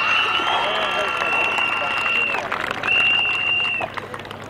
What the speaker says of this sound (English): Ladies and gentlemen, a big round of applause, please, for James Shanes.